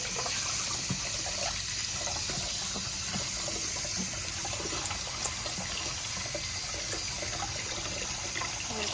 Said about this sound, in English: I'm going to wash these vegetables off.